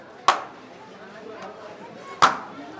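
A knife chops through meat kacchi biryani in two sharp, separate whacks about two seconds apart, close and crisp, while people talk in the background.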